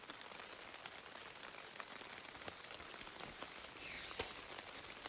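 Rain falling on a teepee during a mule deer hunt, soft steady patter with scattered louder drops striking the canvas close by, quiet overall with a brief heavier gust of drumming near the end.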